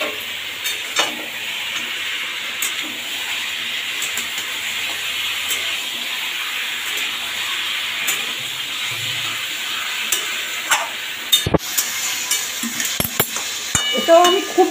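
Capsicum and a few whole garlic cloves fry in a pan for a coriander chicken dish, making a steady hissing sizzle with occasional clinks and scrapes of a utensil stirring.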